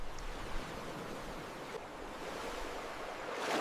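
Ocean waves washing onto a shore, a soft, distant surf rumble with gentle swells and hiss, fairly faint and unbroken by voices.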